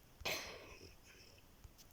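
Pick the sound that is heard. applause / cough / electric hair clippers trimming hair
cough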